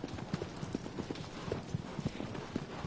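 Hoofbeats of the horse Agro in the Shadow of the Colossus video game, a steady clip-clop trotting rhythm at moderate volume, repeated evenly throughout with faint ambient background.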